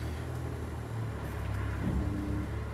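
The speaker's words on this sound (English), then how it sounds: "Watch the van as I rev it, the whole van." Low engine rumble from a faulty 2016 Mercedes Citan van with a buckled wheel, revved in a steady drone that swells slightly toward the end, heard up close with no talking.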